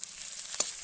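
Soft, faint sizzle of chopped onions, green chillies and tomato frying in a pan with five-spice seeds, with one brief brighter crackle partway through and no voices.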